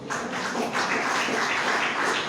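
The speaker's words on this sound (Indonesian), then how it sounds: "Tepuk tangan bagi Tuhan." A church congregation at a Sunday worship service at GBI House of Healing claps for God, giving dense, continuous applause that swells slightly and stays fairly loud throughout.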